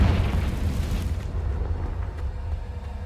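A Confringo fire spell explodes in the Hogwarts Legacy video game: a single loud, booming blast that starts at full force and fades over a few seconds into a low rumbling tail, with no voices.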